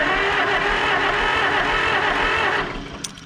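A 1949 John Deere MC crawler that has sat for 20 years cranks over, its engine turning in a loud, steady churning drone that cuts off abruptly near the end.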